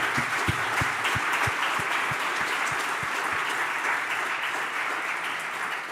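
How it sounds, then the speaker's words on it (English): Applause at a European Green Deal conference session for the rapporteurs: steady, full clapping from a sizeable audience, with a few louder individual claps near the front in the first seconds. "a big round of applause again for the 8 rapporteurs"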